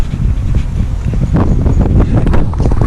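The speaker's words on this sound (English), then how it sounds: "The wind has picked up a tiny bit now." Wind blows hard across a beach at Gaeta in Italy, a loud continuous buffeting rush close to the microphone with gusty surges.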